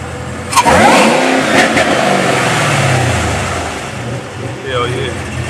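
A supercharged LT4 V8 in a 1987 Buick Regal on 28-inch wheels revs up sharply, then holds a throaty, rising and falling drone close by, with a voice briefly heard over it near the end.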